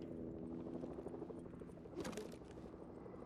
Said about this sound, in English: Someone's got a helicopter.